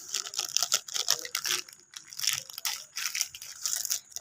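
A malai ice cream wrapper is torn open up close in repeated bursts of crisp crinkling and ripping plastic, with short pauses between pulls and no talking.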